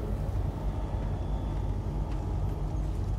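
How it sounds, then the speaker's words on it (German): Tank engine in the video game Star Citizen, a steady low rumbling drone that holds constant and fairly loud throughout, with no voices over it. "Ja, wir sind mit dem Panzer da."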